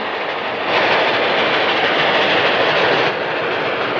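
Loud steady roar of a passing train on prairie rails from a 1938 period film, rising a little louder mid-way with a faint clickety-clack of wagons before easing back, no voices.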